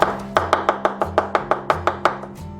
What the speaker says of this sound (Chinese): 再准备1小颗生姜切末